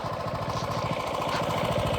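A mini bike engine runs at a steady, fast putter with close, loud rapid exhaust pulses and a buzzy mechanical rattle.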